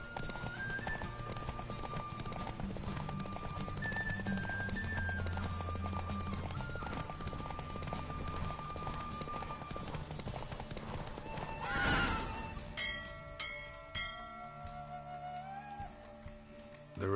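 Hooves of a horse galloping in a race in The Witcher 3 pound in a steady clip-clop over music, with a whinny near the end.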